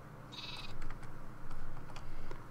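Sheep bleating in the Minecraft game on a Mineplex minigame server, a few short bleats recurring over a steady background of game noise.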